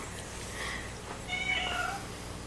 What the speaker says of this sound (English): Diana, our family cat, who really runs the house and whom we are here to serve, just came in and voiced her objection to all this filming that's going on